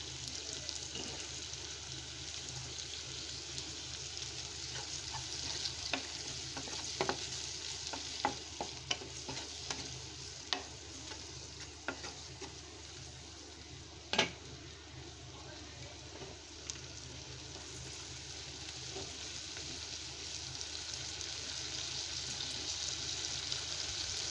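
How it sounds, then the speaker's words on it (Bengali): Prawns dropped into a frying pan with ridge gourd curry, a steady low sizzle with occasional stirring scrapes and clicks running throughout, fairly quiet and close with no talk. "এবার এই মুহূর্তে আমি চিংড়ি মাছগুলো দিয়ে দিলাম।"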